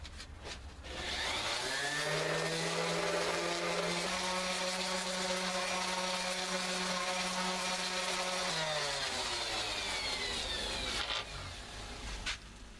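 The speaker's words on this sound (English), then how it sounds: "Now I'm pretty much just sanding this down smooth using a 220 grit" Power sander working a fiberglass hockey stick smooth with 220 grit, a steady close motor whine that spins up, holds evenly for several seconds, then winds down.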